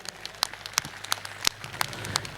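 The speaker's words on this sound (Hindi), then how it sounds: "एक बार मुझे सारे लोग ताली बजा करके माहौल दें" A crowd at Imran Pratapgarhi's political speech claps in a steady rhythm, sharp claps landing roughly three times a second over a faint hum of voices.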